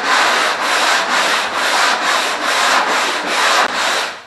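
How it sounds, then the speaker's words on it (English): A sanding block working body filler on a Mercedes 280SL body panel in a cross pattern, producing loud, steady rhythmic rasping strokes, roughly two per second, close up and alone. "So again, we're just going to sand this in a cross pattern."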